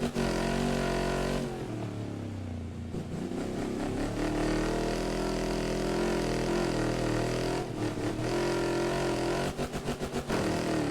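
Racing cars roar around the last lap in the video game Wreckfest 2, a loud sustained engine drone with shifting pitch, several sharp revs and gear changes, and a brief dip near the start.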